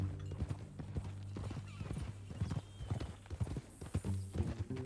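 Horse hooves clip-clop in a video-game Western ranch setting, a steady run of close hoof strikes with harness jingle and a low musical drone underneath; a horse briefly whinnies.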